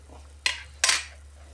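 A metal lid is set onto a cooking pot of pork sinigang, giving two quick, close clinks over a low steady hum.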